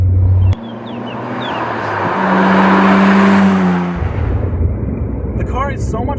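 Nissan Skyline GT-R, a right-hand-drive car, pulls with a steady engine drone that rises in pitch and then drops back, heard from inside while a voice talks over it.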